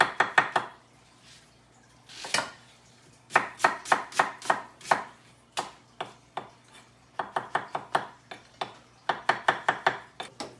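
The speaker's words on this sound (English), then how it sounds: "And for the mushrooms, just cut them kind of thick slice, kind of like that." Knife on a cutting board slicing mushrooms into thick slices, quick bursts of crisp, close chops separated by short pauses.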